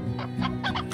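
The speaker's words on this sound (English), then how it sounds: "That's a chicken." Chicken clucking in the video game Slime Rancher: a few short, close clucks in quick succession over a low steady background, with no talking.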